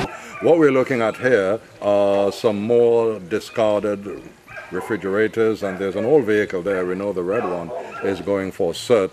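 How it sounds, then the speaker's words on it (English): Dogs bark in the background of a residential neighborhood on Montserrat during an island-wide clean-up, faint and intermittent beneath someone talking steadily throughout. "so obviously you can hear the dogs barking in the background"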